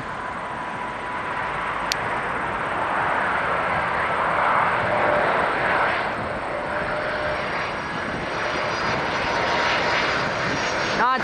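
An Air Canada Airbus A330 jet with Rolls-Royce engines roars past at Toronto Pearson airport, a loud, sustained engine rush that swells and holds for several seconds.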